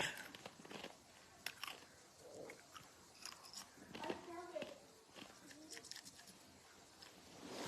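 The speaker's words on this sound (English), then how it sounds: "I just chewed a piece of ice" Ice being chewed, with a few crunchy bites scattered among quiet indoor background sounds, faint and close to the mouth.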